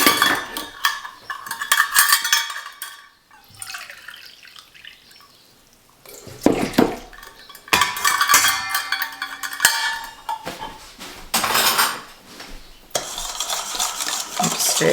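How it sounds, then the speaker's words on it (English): A utensil stirring bread-making ingredients in a bowl, bursts of scraping and clinking separated by short pauses, close and fairly loud. "I'll just stir that."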